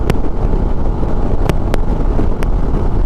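Strong wind buffets a motorcycle riding a busy highway from Gwalior toward Ladakh, a loud, constant low-frequency roar across the microphone with occasional sharp clicks and no speech.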